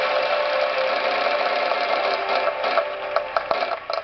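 The prize wheel in the Wheel of Fortune Wii video game spins with a dense, steady mechanical whir. Faint ticking clicks grow more distinct toward the end as it slows.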